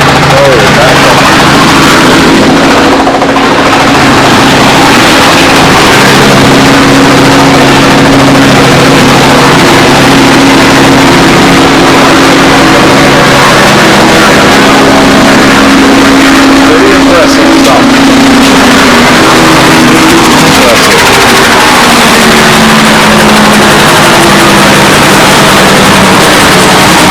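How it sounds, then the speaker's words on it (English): Radial piston engines of a B-17 bomber drone loudly and continuously at close range, a thick rumbling hum with wind-blown roar that lasts throughout. "Radial engines. And there, of course, is the B-17."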